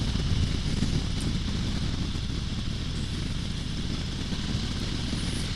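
A 2022 Indian Heritage Classic motorcycle runs with a quiet exhaust, giving a steady, low, even engine drone with little rumble, heard alone at an unchanging level.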